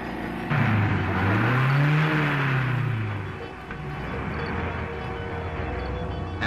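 A car accelerates nearby, its engine note rising and falling in pitch as it pulls away, then settles into a steady driving hum for the rest of the stretch.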